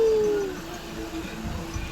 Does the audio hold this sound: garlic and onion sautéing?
no